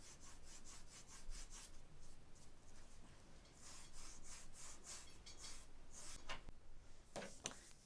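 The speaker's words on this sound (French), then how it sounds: "on va en fait limer un peu tout ce qui dépasse" Hand-filing the edge of a piece of leather flat, a series of soft, fairly quick rasping strokes that come in bursts, quiet and close with nothing else heard.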